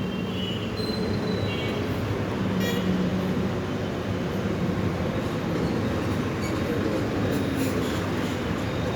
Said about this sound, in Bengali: এই যে মিরপুর 10 নম্বর মেট্রো স্টেশন।